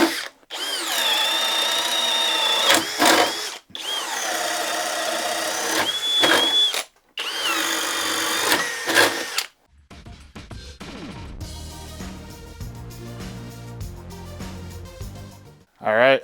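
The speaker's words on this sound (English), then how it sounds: "We are going to be going first with a 3/4 inch Diablo Speed Demon bit." A cordless drill with a 3/4 inch Diablo Speed Demon bit whines loudly through three long bursts of drilling with short pauses between, then gives way to quieter rattling and handling noise.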